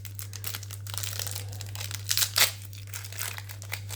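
Foil wrapper of a Pokémon Zénith Suprême booster pack crinkling and tearing open, close and fairly soft, with a steady low hum underneath and a couple of sharper rips near the middle.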